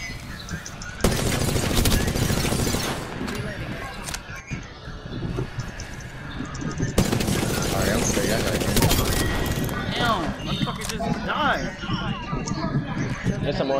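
Bursts of rapid automatic gunfire in a shooter game crackle loud and close, two long volleys with scattered shots between, while players talk over the action.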